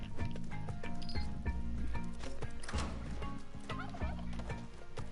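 Turkey gobbling in the video game Spelunky 2, a rapid burbling fowl call over a dense, loud bed of game music and rhythmic clip-clop-like effects, with no talk.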